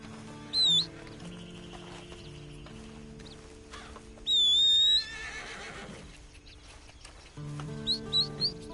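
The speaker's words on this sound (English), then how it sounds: "And you better get on this horse." A horse whinnies in short high bursts, twice clearly and again near the end, over a low hum of ambient game music.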